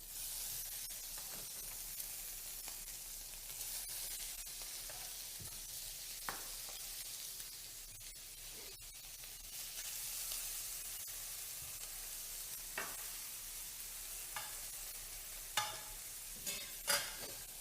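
Cuttlefish frying in a pan for fideuá, a steady close sizzle and hiss with occasional light scrapes and taps of a utensil stirring, continuous throughout.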